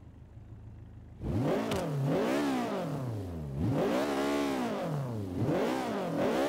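A Nissan 240SX (RPS13) drift build with a VTEC engine swap revs in Forza 5. After a low idle, the engine climbs and falls in pitch three times in loud, close, smooth sweeps, with no voices.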